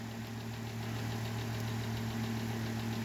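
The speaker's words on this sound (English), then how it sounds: "And they would just be running just like this, rattling away" A vintage JC Penney 9-inch Lasko oscillating fan runs with a steady motor hum and a fast, continuous rattling buzz, close and moderately loud, no voices.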